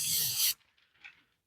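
An airbrush sprays glue onto a small test piece of paper, a loud close-up hiss lasting about half a second, followed by a couple of faint, brief puffs.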